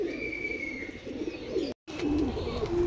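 A female Teddy pigeon coos close by in a low, steady, throaty murmur that swells and wavers, broken by a momentary cut of silence midway before the cooing carries on.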